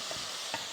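Paprika and cumin stirred into a spicy stew in a pot, a soft continuous scraping swirl with two faint spoon taps, close and alone.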